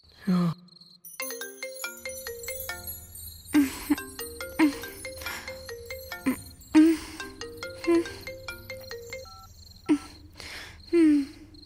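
A phone ringtone plays a bright, repeating electronic melody, with low vocal sounds and groans breaking in at intervals.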